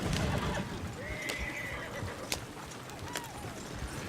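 A horse in the video game Red Dead Redemption 2 whinnies with a high, wavering neigh over a rough outdoor ambience, followed by softer snorts and a second short whinny, with a few sharp clicks scattered through.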